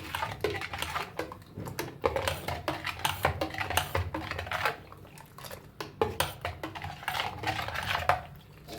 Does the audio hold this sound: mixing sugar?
yes